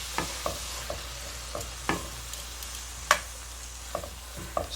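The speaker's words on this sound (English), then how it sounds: "So we're going to let this sear and we'll be right back." Garlic, peppers and lemon slices searing in a pan with lemon juice, giving a low steady sizzle broken by a few sharp clicks and taps of a utensil, close by with no talking.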